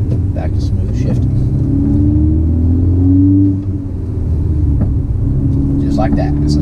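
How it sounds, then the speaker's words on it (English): Manual stick-shift car pulling away on a hill, a close low engine rumble that rises and eases as it moves off, with a driver talking over it. "that's how you can pull out on a hill"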